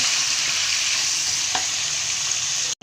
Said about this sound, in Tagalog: Gigisa natin sa sibuyas at bawang.